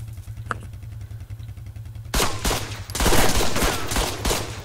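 Gunfire in ARMA 3, a steady low engine-like hum that gives way to a loud, rapid fusillade of close shots and clattering bursts in the second half, with no talk.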